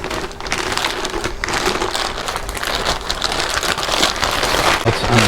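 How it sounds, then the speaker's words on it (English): Packaging is pulled off a Triumph Slimline motorcycle gas tank by EMGO. A continuous loud crinkling and rustling of wrap and plastic runs close up for several seconds without pause, with no talk. "Let's unwrap this."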